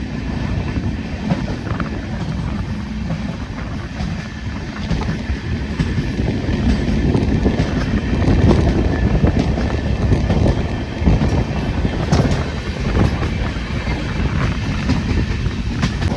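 The Punalur–Madurai Express with new LHB coaches, heard from on board as it runs through Chandanathoppu halt without stopping, a loud continuous rumble with rail clatter and rattling throughout, no voices.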